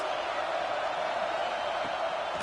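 A football stadium crowd roars steadily on a big third down against the Washington defense, a dense, sustained wash of cheering that stays loud and even throughout.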